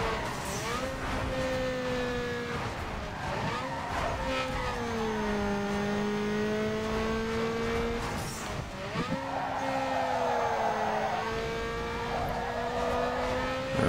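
Race car engines in Need for Speed Underground 2 drone steadily throughout, pitch rising and falling through gear shifts, with a brief drop and fresh acceleration midway, loud and close with no talk.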